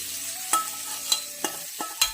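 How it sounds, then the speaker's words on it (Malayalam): Mango pieces stirred into hot coconut oil with spluttered mustard seeds for pickle. Five distinct scraping stirs sound close up over a soft sizzle, with no voices. "ഇനി നമുക്ക് ഈ മാങ്ങ ഇതിനകത്തോട്ട് ഇട്ട് കൊടുക്കാം."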